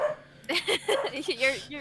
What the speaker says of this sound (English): your roommate's dog is a corgi